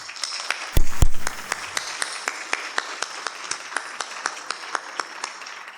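Audience applause at a Junior Achievement Business Hall of Fame laureate induction ceremony: a brief loud burst near the start, then sparse, evenly spaced sharp claps that carry on at a moderate level.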